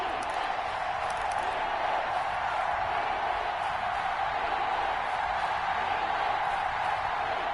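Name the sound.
football stadium crowd cheering before a big third down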